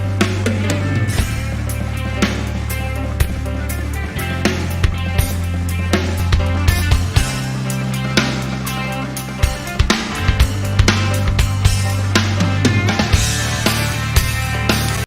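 Drum kit playing a song, a dense mixed rock groove with punchy kick, snare hits and cymbal crashes under sustained bass and keyboard tones, loud and continuous throughout.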